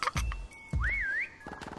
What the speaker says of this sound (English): Oh, that whistle's too much for me.